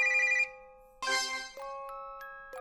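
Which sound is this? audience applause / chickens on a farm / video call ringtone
video call ringtone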